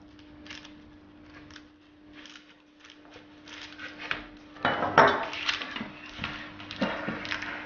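Knife cutting homemade mini Bounty coconut bars in half on a board, soft taps and scraping clinks, quiet at first then louder and busier, with no talk.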